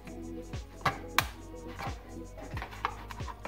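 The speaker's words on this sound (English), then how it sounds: "I'm gonna poke a hole right here, make it a little bit long" A knife pokes a hole in a homemade leech trap for fishing, making a few faint, sharp clicks and taps at irregular intervals over a low steady hum.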